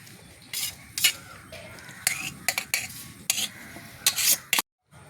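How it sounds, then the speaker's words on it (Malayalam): Guava dough being mixed by hand with a little oil, with close, sticky stirring and scraping strokes in a bowl coming in irregular bursts, then a sudden cut to silence near the end. "നമുക്കിതൊന്ന് കുഴച്ചെടുക്കാം"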